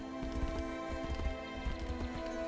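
A horse gallops in the video game Tainted Grail: Fall of Avalon, a rapid run of soft, low hoofbeats under a steady hum of game music and ambience.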